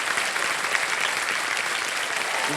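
A studio audience on the quiz show Kaun Banega Crorepati Junior claps steadily to welcome a contestant, a thick, even wash of applause lasting a couple of seconds with no talking over it.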